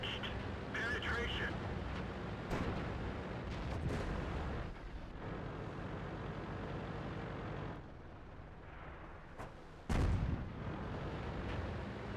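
Artillery shells landing during a World of Tanks match on the Sand River map, heavy booms and rumbling impacts going off repeatedly under a steady bed of battle noise, with one sharp loud blast near the end.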